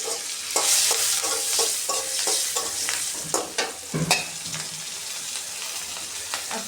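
Chicken frying in a pan as salt and green chilies go in, with a loud steady sizzle and repeated stirring scrapes and clinks over village cooking, no talk.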